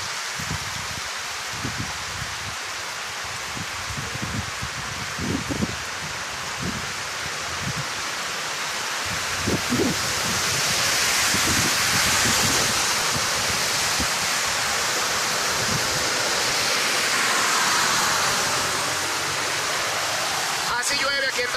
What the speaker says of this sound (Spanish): Así llueve aquí en Tapachula.